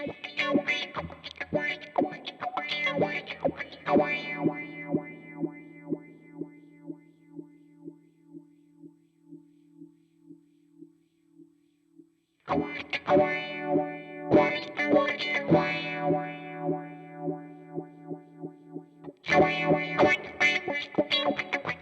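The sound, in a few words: guitar filter-like effect from Sonicake Matribox FX block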